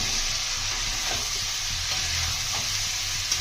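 Potato and cauliflower fry in a spice masala while being stirred, making a loud, steady hissing sizzle with faint scraping underneath.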